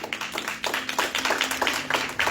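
A church congregation claps together in a quick, fairly even rhythm, giving a string of moderately faint, sharp hand claps with no talking over them.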